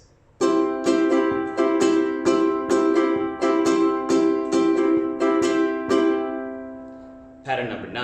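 A ukulele strummed at a quicker tempo, a steady run of bright chord strokes ringing close and clear, ending in a fading chord before a voice begins.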